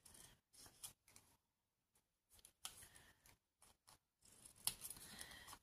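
Scissors cut through paper in short, close snipping strokes separated by brief silences, faint and crisp with no talking.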